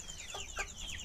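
Chickens cluck in short, bright chirping calls while being fed, small birds among larger ones, with a few quick calls close by over a steady low farmyard background.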